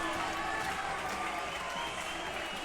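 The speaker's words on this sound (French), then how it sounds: "la foule est en délire dans la Sport 50 de Salon de Provence" A packed crowd roars and applauds continuously at a Provençal basketball derby in a Salon-de-Provence sports hall, a dense, loud wash of cheering with no break.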